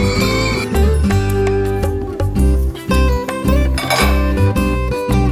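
Metal lid settling onto a cooking pot for dinengdeng, a series of close, loud clanks and ringing clinks with some rattling as it is placed and adjusted.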